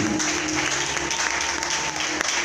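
A church congregation claps to praise God at a French-language conference service, dense sustained applause filling the room at close range, steady and loud throughout with no pauses.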